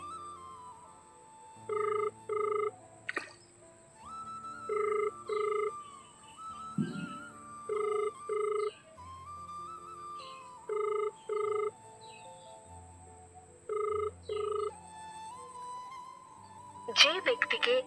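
Unanswered phone call ringing through a handset: repeated paired electronic ring tones in a steady on-off rhythm, with tonal background sounds and a brief louder burst near the end.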